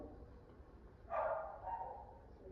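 A reactive dog lets out a single sharp bark, then a shorter, softer follow-up, at moderate distance over low background noise.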